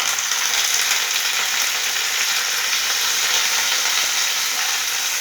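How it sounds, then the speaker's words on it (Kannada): Curry leaves and mustard seeds sizzle in hot oil, a steady, loud, hissing crackle that holds evenly for the whole stretch with no talking. "ಕರಿಬೇವು ಹಾಕಿರ್ತೀಗ."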